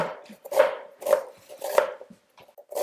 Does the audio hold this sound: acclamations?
no